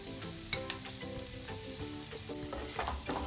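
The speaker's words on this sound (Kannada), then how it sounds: "ಎಲ್ಲ ಮಸಾಲೆ ಹಾಕೊಂಡ್ಮೇಲೆ ಚೆನ್ನಾಗಿ ಮಿಕ್ಸ್ ಮಾಡಿ ಲೋ ಫ್ಲೇಮಲ್ಲಿ 1 ಮಿನಿಟ್ ಈ ಥರ ಫ್ರೈ ಮಾಡ್ಕೋಬೇಕು" Chicken pieces frying with coriander powder, pepper and other spices on low flame for a pepper chicken dry, a steady sizzle with a couple of sharp clinks from stirring near the start, no voices.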